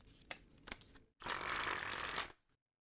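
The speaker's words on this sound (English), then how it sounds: "Now, I'm just going to keep shuffling." A deck of playing cards is handled with a few soft taps, then riffle-shuffled in one quick, close, whirring burst that ends in silence.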